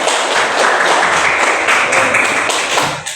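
A classroom of students claps together in a dense, steady burst of applause that lasts a few seconds at close range and then trails off, with no talk over it.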